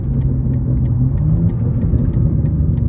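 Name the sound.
BMW M2 exhaust burbles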